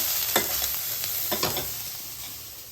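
Vegetables and peanuts roasting in a pan are stirred, with a few sharp scraping strokes over a steady close sizzle that fades slightly toward the end.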